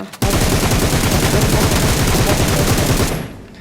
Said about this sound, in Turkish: bir de ileriden de silah sesleri geliyor